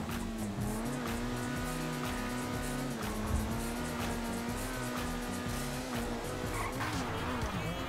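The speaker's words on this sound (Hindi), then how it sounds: "तो जल्दी जल्दी चलते हैं अपने गाड़ी को भगाते हुए।" A car is driven fast in the video game GTA 5. The engine holds a steady, prominent hum with shifting revs and gear changes, and no talk is heard over it.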